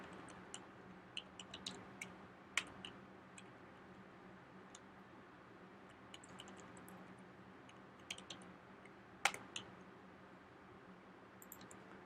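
Someone types code on a computer keyboard, producing scattered light keystrokes and sharper clicks at an irregular pace over a steady low room hum, with no talking.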